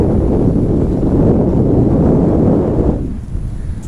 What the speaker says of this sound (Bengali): হয়তো আপনারা বাতাসের আওয়াজ বুঝতে পারছেন